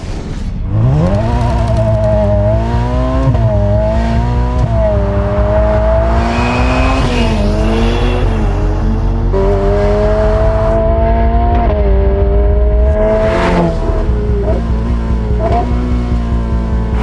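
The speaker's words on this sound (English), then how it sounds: "marvel for a moment at the result of combusting compressed fuel and air in Ferrari's stripped out, fully focused" A stripped-out, track-focused Ferrari 488 Pista revs hard again and again, its engine note sweeping up and dropping back in loud, close bursts, with no voices over it.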